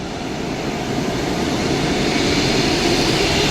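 Airplane waiting near the runway at Mumbai international airport, a steady broad engine roar and hiss holding constant and loud throughout, with no voices.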